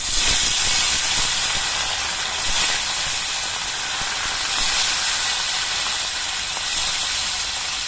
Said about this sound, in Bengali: এবার মাছগুলো তেলের মধ্যে দিয়ে ভেজে নিচ্ছি